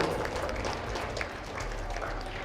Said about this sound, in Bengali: ওর জন্য একটা জোরে হাততালি হবে